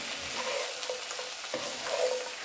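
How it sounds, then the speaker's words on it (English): Seasoned okra and tomatoes stirred in a frying pan, with a steady close sizzle and a few soft scraping and clinking strokes of the spoon, no voices. "So we're just going to stir this around."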